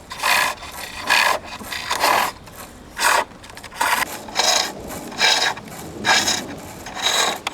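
A spindle gouge cuts a groove into wood spinning on a lathe while a spinning top is turned, giving repeated scraping bursts about once a second, close and fairly loud, with no talk.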